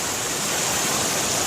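Groundwater pours out of a mountainside beside a creek, a loud, dense, continuous rushing roar of water very close by with no other sounds.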